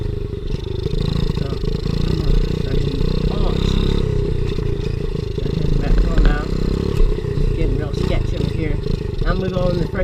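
A pit bike engine revving and droning continuously while being ridden off-road near sand, loud and close throughout, with a rider talking over the engine noise.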